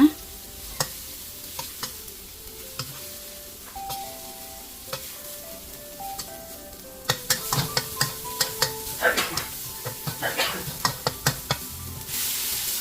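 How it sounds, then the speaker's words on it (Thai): A spatula tip chops through shrimp heads in a hot frying pan for Thai stir-fried glass noodles with shrimp and basil, giving sparse clicks at first and then a denser run of sharp scrapes and taps over a low sizzle. "แล้วเราก็จะตัดหัวเขาใช้ป ลายตะหลิวนะ ตัดหัวเขาให้ขาดเลย"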